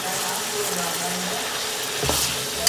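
Chopped tomatoes fry loudly in a pan with ginger, garlic and green chilies for haleem, a steady close sizzle with stirring scrapes toward the end.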